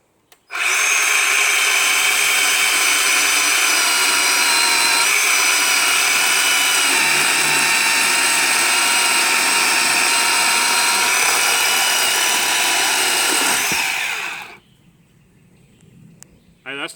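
A Bauer 20V cordless chainsaw cuts through a solid piece of ash wood, a loud steady high-pitched motor whine held for about fourteen seconds before stopping, leaving quiet room noise.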